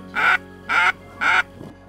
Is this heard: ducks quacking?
yes